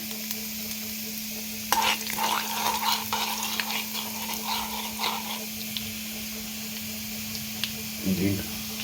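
Orange peel chutney frying with curry leaves and asafoetida is stirred in a pan, giving a steady sizzle with scattered scraping strokes over a constant low hum, and a brief muffled thump near the end.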